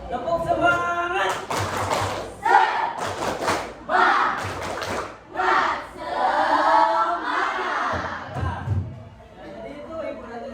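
Short clusters of brisk group hand claps follow a 'tepuk semangat' spirit-clap pattern in a class setting, broken up by an instructor's voice talking between and over the rounds of clapping.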